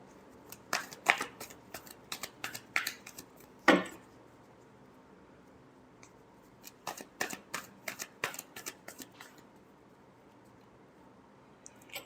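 A deck of tarot cards is shuffled by hand, close and crisp: rapid bursts of riffling and flicking with sharp card snaps, pausing briefly, then another quick run of shuffling before fading to quiet.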